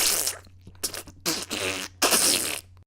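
A voice imitates wet, sputtering diarrhea farts with the mouth, several loud spluttering bursts separated by short gaps over a low steady hum.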